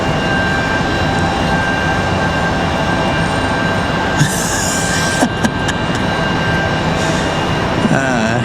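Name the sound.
airplane departing at Raleigh Durham airport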